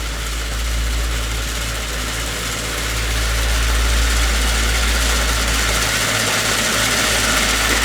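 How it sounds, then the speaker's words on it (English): Wooden gearbox of an Ugears laser-cut plywood mini helicopter kit turning, giving a steady, close low whirring hum with a faint rattling vibration throughout. "And that's the main gearbox in there."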